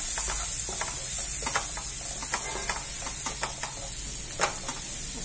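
Chopped onion with mint sautéing in a hot pan for mint rice, a steady close sizzle with scattered crackles and light stirring scrapes throughout, no voices.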